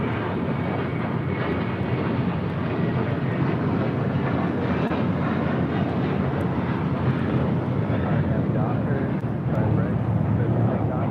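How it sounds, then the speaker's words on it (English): An American Airlines Airbus A321 takes off from LAX, producing a dense, steady low-heavy engine roar at moderate distance, continuous throughout with some talk mixed in. "This is American Airlines 2928 taking off to Dallas Fort Worth on an A321"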